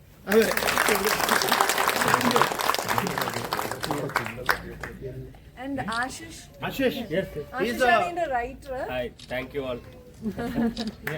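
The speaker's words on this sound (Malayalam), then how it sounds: "പടം ഇഷ്ടപ്പെട്ടെങ്കിൽ ഒരു ക്ലാപ്പ്" Theatre audience claps loudly for a film at a cast visit, the applause dense at first and then thinning out as people start talking and laughing over scattered claps.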